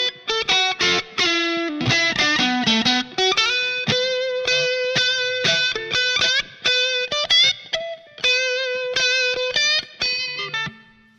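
Electric guitar played through a boost comp pedal on a Line 6 POD HD500, picking out a lively melodic riff of quick notes and sustained tones with clean, compressed sustain and no talking.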